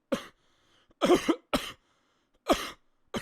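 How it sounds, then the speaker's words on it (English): A series of harsh, abrupt coughs close to the listener, four or five bursts separated by brief silences, with no talking. "You just coughing into the air."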